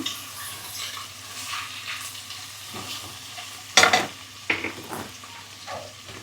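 Mint fries with spices in a pot for meal maker biryani: a soft, continuous sizzle under a spoon stirring and scraping, with a couple of sharper metallic clinks of utensil against pan midway.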